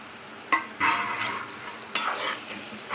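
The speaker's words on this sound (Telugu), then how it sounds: "వేసి బాగా ఈ మసాలా అంతా బాగా దీనికి పట్టేలా కలిపేసుకుందాం" Peeled taro root being stirred into masala in a hot pan, with sharp scraping strokes of a spoon against the metal over a steady frying sizzle, close and fairly loud, with no voices.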